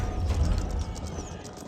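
Horsemen in Age of Empires 4, a soft rapid clatter of hooves from mounted units, steady and moderately close, with faint mechanical clicks mixed in.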